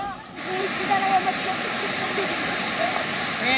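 Swollen river floodwater rushes past during heavy monsoon flooding in Uttar Pradesh, a loud continuous broadband roar and hiss with faint tonal whines riding on top.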